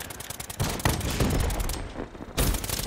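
Loud, close rifle fire in Black Ops 3, with a steady run of sharp shots and a few heavier bursts packed tightly across the clip, and no talking.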